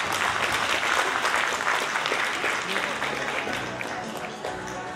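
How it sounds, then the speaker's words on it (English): Steady, moderately distant applause from an audience for a panel of speakers, a continuous wash of clapping with some voices underneath. "round of applause please for our panelists today"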